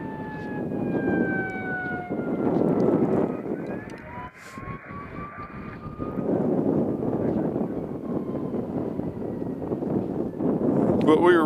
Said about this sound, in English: As you hear a fire engine behind me.